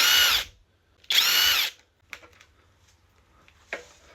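Two loud, close bursts from a power tool working the triple clamp bolt on scooter forks, each about half a second long, followed by quieter clicks, rattles and a brief shorter whir.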